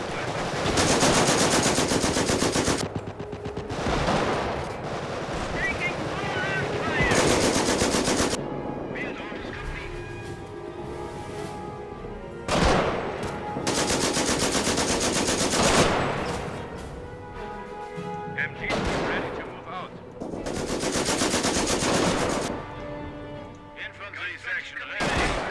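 Sustained machine-gun fire rattles in bursts through a Company of Heroes battle, with loud stretches of rapid gunfire broken by brief lulls and scattered shots, while voices talk in between.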